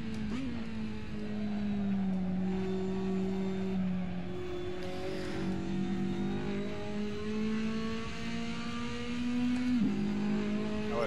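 A Ferrari 458 GT2 racing at Monza in the Assetto Corsa online game, its engine droning steadily and climbing through the revs with an abrupt pitch drop at an upshift near the end, heard alone.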